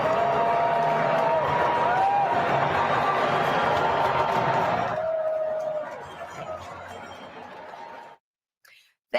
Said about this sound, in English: here is the president arriving at the men's final and being greeted with loud cheers